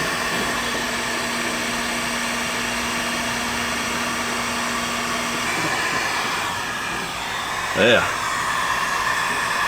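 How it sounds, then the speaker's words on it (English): A heat gun blows a steady, loud whoosh while melting plastic on an RV panel, then eases off near the end after a brief spoken word. "I got the heat gun in the way"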